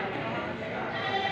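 A goat bleats in one sustained, fairly loud call, with a busy background.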